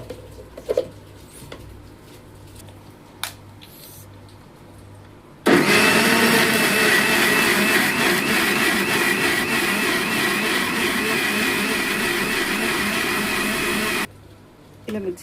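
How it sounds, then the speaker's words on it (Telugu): A kitchen mixer grinder whirs loud and steady for about nine seconds, blending a herbal hair pack that may contain henna leaves, with quieter handling clatter before it starts and after it stops. "ఇలా మిక్సీ చేసుకున్నాం కదా,"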